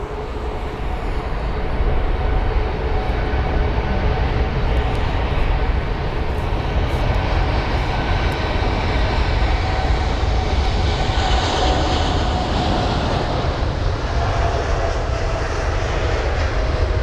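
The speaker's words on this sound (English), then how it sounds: "There's the United 787 Dreamliner as well." A United Boeing 787 Dreamliner jet departing London Heathrow, its engines a loud, steady, broad roar that holds strong and even throughout, with no talk over it.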